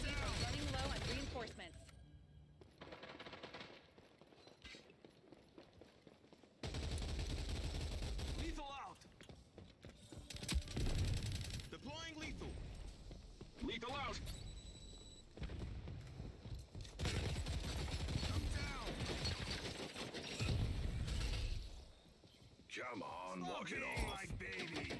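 Gunfire in the shooter game Rogue Company, rapid bursts of automatic weapon fire cracking out in loud clusters, mixed with game effects while a player talks over the action.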